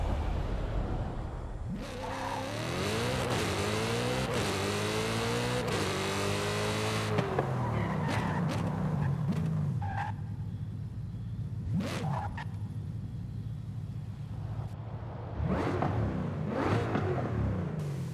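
Audi RS5 Coupe with a high-revving V8 fitted with turbos, in Forza Horizon 5, revs hard through rising gear sweeps, then settles to a lower drone with short bursts of throttle and a few sharp pops, all loud and close.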